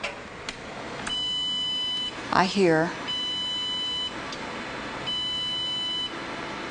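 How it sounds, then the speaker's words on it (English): A desktop computer's POST beep code sounds as three evenly spaced, sustained electronic beeps about a second apart, then stops; someone briefly speaks between the first and second beep. "three short beeps and then it stops."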